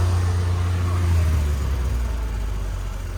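A Daewoo Damas minivan engine idles at a used-car market, a close, steady low rumble with a faint rise and then gradual easing, no voices.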